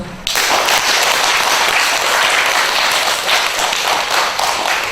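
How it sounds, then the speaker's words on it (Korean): Audience clapping together during a dharma talk at a Buddhist temple, a loud, dense burst of applause that starts abruptly and stays steady for several seconds. "박수 한번 쳐볼까요? 박수?"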